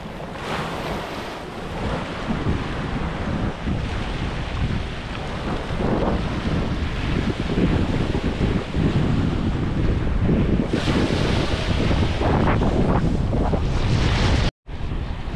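Strong wind roars and buffets continuously, loud and close, with gusts battering the microphone and a brief dropout near the end.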